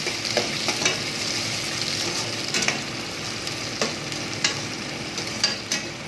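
Onion, green chili and curry leaves fry in a pan with a steady close sizzle, broken by repeated scraping of a spoon as the mixture is stirred.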